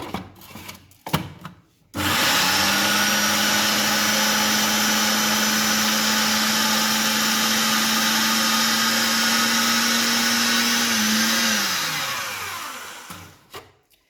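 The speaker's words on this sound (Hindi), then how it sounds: "अदरक को डाल लूँगी और इसे पहले मैं इसे थोड़ा चॉप कर लूँगी" An electric chopper runs on ginger for Peshawari chapli kebab, a loud steady motor whir that holds for about ten seconds before spinning down, with faint clatter at either end.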